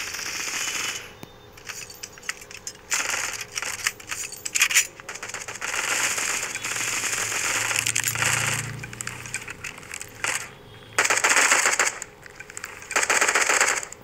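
Weapon reloading in the mobile shooter Bullet Echo, repeated metallic clicks and clattering mechanical rattles in short bursts, mixed with intermittent gunfire and game noise.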